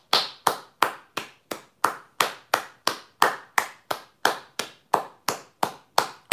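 Hands clap close and sharp at a steady pace of roughly three claps per second, a regular rhythm of bright, separate claps with silence between them.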